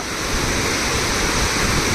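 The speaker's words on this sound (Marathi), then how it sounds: "सांडव्यातून किंवा मोरीतून बघा मोठ्या प्रमाणात पाव पावसाचं पाणी किंवा पुराचं पाणी वाहून जात असल्याचे दिसून येते" Flood water from the swollen Ghod river rushing through the spillway of a Kolhapur-type weir, a loud, dense, unbroken roar of churning water up close.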